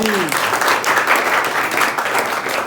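Schoolchildren at a government high school clap together in a brief burst of applause, a dense, even patter of many hands heard close, with a short voice at the very start.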